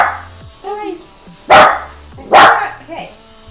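Dogs barking indoors, two loud sharp barks with smaller yips and whines between them, close by, mixed with a person talking.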